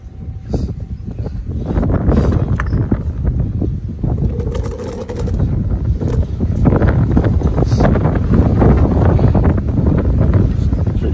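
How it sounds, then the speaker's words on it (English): Heavy wind buffets the microphone in loud, rumbling gusts that swell and persist throughout, with faint background noise underneath, outdoors in Las Vegas during brake pad and rotor work on a 2002 Ford E-450. "Windy out here in Vegas today."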